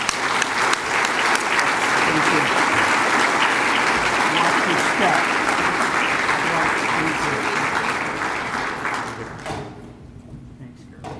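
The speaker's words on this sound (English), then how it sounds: "Give me a round of applause, please." An audience at an annual dinner applauds with loud, dense, sustained clapping that gradually thins and fades toward the end, where a voice briefly speaks.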